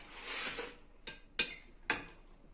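Food is stirred in a pot while making a Jamaican jerk dish, with a soft rustling swirl followed by three sharp, separate clinks of a utensil against the pot.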